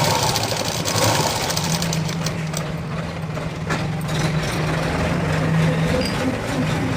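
A sewing machine stitches fabric for a garment's front part and belt joint, running loud and unbroken at close range for the whole stretch, a dense mechanical whir with a rapid needle patter.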